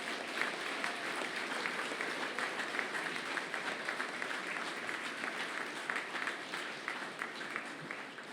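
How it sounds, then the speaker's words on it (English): A graduation ceremony audience gives a final big round of applause, dense sustained clapping from a large crowd throughout. "can we reserve our last final big round of applause for everybody here involved this afternoon"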